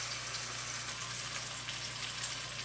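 Chicken sizzles steadily in a hot pan, a faint, continuous crackle and hiss with no talking over it.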